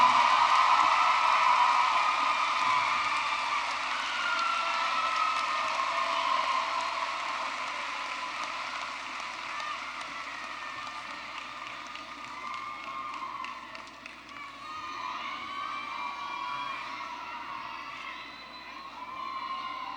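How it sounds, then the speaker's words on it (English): A graduation audience at Tidewater Community College's spring 2019 commencement applauds and cheers in a dense, sustained wash of clapping that slowly thins and softens toward the end. "Let's have another round of applause for your fellow graduate, Charleston Yancey"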